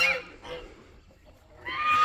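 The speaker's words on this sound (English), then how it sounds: "there's a goose on a nest in each one of these little chicken houses" A goose nesting inside a small chicken house honks loudly and close, giving a few harsh calls at the start and again near the end with a quieter gap between.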